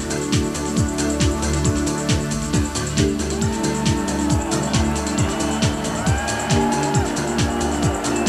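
A small car drives laps on a track during a 1,000-mile run without engine oil, a loud, close engine note rising and falling in repeated cycles as it accelerates and shifts.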